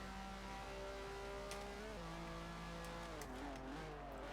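In Forza Horizon 4, a Lamborghini Miura SVJ engine climbs through rising revs, shifts gears and climbs again, with clear harmonic tones that stay steady and close.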